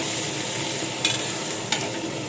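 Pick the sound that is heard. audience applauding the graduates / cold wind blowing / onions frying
onions frying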